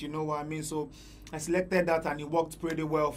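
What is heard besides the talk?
No everyday noises stand out.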